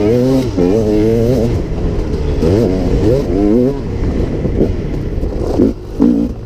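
A KTM EXC 300 two-stroke enduro bike on trail laps, its engine droning and rising and falling in pitch as the throttle opens and closes, loud and close throughout.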